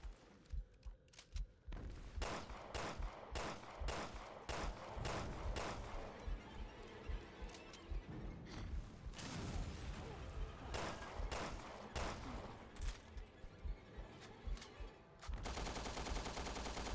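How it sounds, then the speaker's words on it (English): Gunshots ring out in Resident Evil: Revelations 2, with a run of evenly spaced single shots, then scattered further bursts amid game ambience and footsteps, moderately close, followed by a stretch of steady noise at the end. "Please just shoot him. Shoot him dead."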